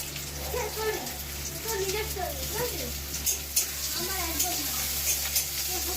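Chopped onion and garlic fry in hot oil in a home kitchen, making a continuous soft sizzle and hiss. A person talks over it throughout.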